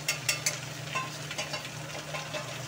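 Powdered spices tipped into vegetables frying in a pan with browned onion, giving a steady close sizzle with a few light stirring scrapes and taps near the start.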